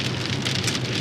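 Heavy rain drums steadily and loudly on a vehicle pushing through an October thunderstorm in Arkansas, a dense continuous wash with no voices.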